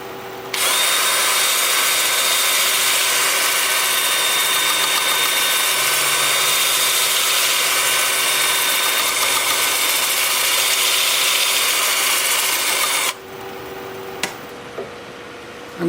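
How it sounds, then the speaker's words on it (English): A loud, steady high-pitched whine of a 2-inch 80-grit sanding disc grinding against wood on a lathe, running continuously for most of the clip before cutting off abruptly. "I'm starting at 80 grit with my 2-inch disc, working up through 400."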